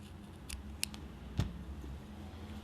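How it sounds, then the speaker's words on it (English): A single quick snip of scissors cutting crochet yarn during a slipper-making project, sharp and close against a quiet room hum. "and then cut the yarn"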